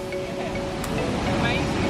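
Rushing water at Eurobin Falls, a waterfall running unusually full, gives a steady broadband roar heard close to the microphone, with faint wind buffeting and no clear talk.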